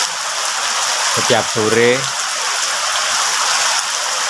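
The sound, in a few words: heavy rain in a village in Trenggalek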